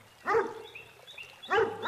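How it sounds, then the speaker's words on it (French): A dog barks twice, close and fairly loud, with a short pause between the two barks. "Regarde ce chien, sur quoi il aboie?"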